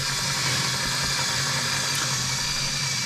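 A LEGO Technic Claas Xerion 5000 tractor model's electric motor runs steadily, a continuous close whirring hum with a low drone underneath and no break throughout.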